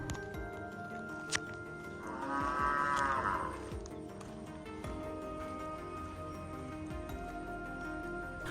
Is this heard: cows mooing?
yes